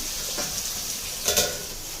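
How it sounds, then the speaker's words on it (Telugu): Tomatoes, carrot, green chillies and onions sizzle in a pan for wedding-style sambar, giving a close, steady frying hiss with a brief stir or clink partway through. "టమాటాలు, మళ్ళీ క్యారెట్, పచ్చిమిరపకాయలు, ఆనియన్స్ అవి వేసాం కదా, అది కొంచెం ఫ్రై అవ్వాలన్నమాట"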